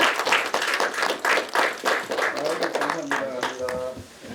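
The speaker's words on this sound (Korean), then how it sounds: "정면 보시고 박수 부탁드립니다." Audience clapping at a signing ceremony for an agreement on population education to counter low birth rates; dense, fairly loud clapping fills the room, and a voice briefly speaks near the end.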